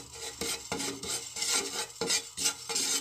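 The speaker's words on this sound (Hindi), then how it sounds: "इसमें मैं ज़ीरा डालूँगी, साथ में कुटी लाल मिर्च, इसे थोड़ा सा मैं फ्राई करूँगी" Cumin and crushed red chili fry in a heated pan while a spoon scrapes and stirs in irregular strokes, metal clinks over a light sizzle, close up.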